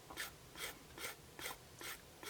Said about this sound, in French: je vais venir poncer un tout petit peu